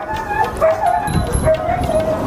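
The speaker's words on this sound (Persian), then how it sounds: "در بغل ما یک پاپیگک هست" A puppy whimpers and yips in short high repeated cries amid background chatter, with people talking nearby in an outdoor setting among Afghan dogs.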